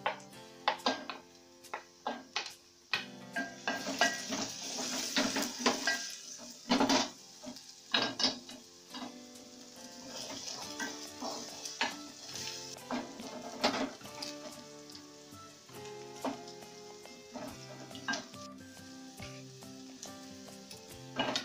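Finely chopped ginger and garlic frying in hot oil for egg curry, a loud crackling sizzle with spatters, scraping stirs and clinks of utensil against the pan throughout.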